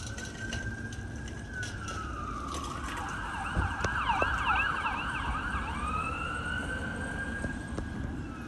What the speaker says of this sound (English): You hear your sirens.